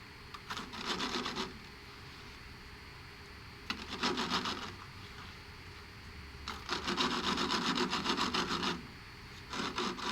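A steel strike-off plate scrapes across the rim of a concrete-filled vessel in a back-and-forth sawing motion, coming as three rasping bursts of rapid strokes separated by short pauses, close and fairly quiet.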